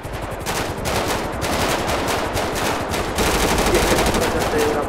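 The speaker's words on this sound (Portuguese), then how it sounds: "Tô tomando tiro aqui" Rapid automatic gunfire from a shootout in the GTA 5 video game during a roleplay raid in Colombia, dense bursts continuing loud and steady throughout with no pauses.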